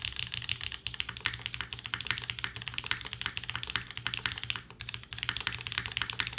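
Steady typing on a Mode Loop TKL mechanical keyboard, a dense stream of soft clacky keystrokes close by with an occasional brief pause, quiet overall and without any voices.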